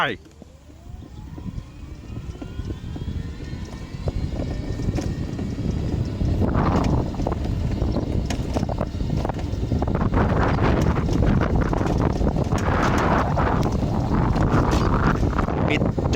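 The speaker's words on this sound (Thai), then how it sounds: "นี่ลองผมจะลองบิดเต็มที่เลยนะครับ ใช้เกียร์3ไป" An electric three-wheeler with a 600-watt motor and a 500-watt controller accelerates at full throttle in third gear. A rising electric whine comes through heavy wind buffeting, with the rushing noise building as speed climbs.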